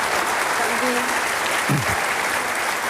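An audience at a Democratic presidential candidates debate applauds in a dense, steady wash of clapping, with a moderator's voice briefly heard over it.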